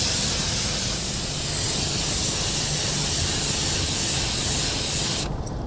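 A paint spray gun mists base coat onto a repaired car bumper, a loud steady broadband hiss held continuously up close before cutting off abruptly near the end.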